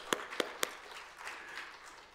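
Three sharp, separate claps ring out from a church congregation at a quick, even pace, then fade into faint, scattered clapping in a quiet hall.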